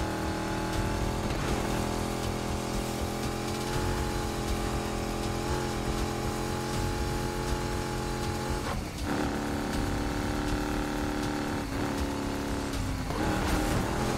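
Constant engine drone of a tuned car driven through streets in the Need for Speed Heat video game, steady and loud throughout with harmonic whine shifting as it accelerates and shifts gears, no voices.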